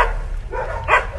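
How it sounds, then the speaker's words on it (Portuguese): Dogs barking outdoors on a rural property during a cattle drive in Conselheiro Lafaiete, with a few sharp, moderately near barks and yips over low rumbling background noise. "Olha os cachorros."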